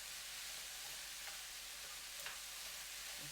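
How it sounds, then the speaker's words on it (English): Onions sauteing in a pan for salmon shaking beef give a steady, soft broadband sizzle with a couple of faint stirring clicks, fairly quiet and with no voices. "Okay, I'm going to saute that."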